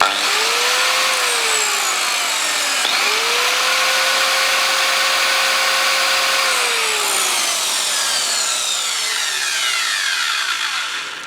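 A 1200-watt power tool with no soft start runs on an inverter, making a loud, steady whining roar close up, with its pitch sweeping down and back up twice as the load changes, and no talk over it.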